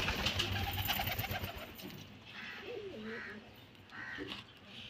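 Baby pigeons in a pigeon loft, with several soft coos and caw-like bird calls over steady background noise, fairly close.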